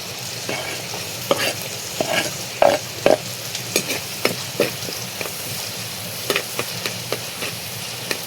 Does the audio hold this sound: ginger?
yes